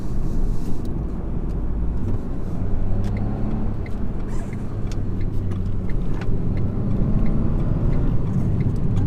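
A 2013 Renault Clio with a 0.9-litre engine is thrown hard through corners, its steady low engine drone and road rumble loud and close throughout, with no voices.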